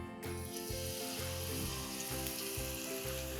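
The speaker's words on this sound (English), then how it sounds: "We're going to place this directly into some hot oil." A batter-coated potato twister fries in hot oil with a steady, dense sizzle that holds close and constant throughout, no voices present.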